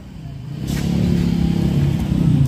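A truck engine revs steadily and loudly, its drone climbing and holding as the truck strains to move an overturned excavator after a bus accident; the roar stays close and continuous throughout.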